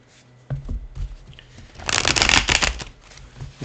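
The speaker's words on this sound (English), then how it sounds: "I'll shuffle the cards just a little bit" Tarot cards are shuffled overhand by hand, a soft riffling flutter that builds into a dense, close burst of papery slaps before tapering off.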